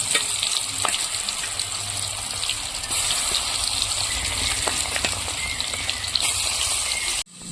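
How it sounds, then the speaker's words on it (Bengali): Pieces of deshi magur catfish and potato fry in hot oil, giving a loud, continuous, rushing sizzle close by with faint clicks scattered through it. The sound cuts off abruptly near the end. "মাছ আর আলু ভেজে নেব"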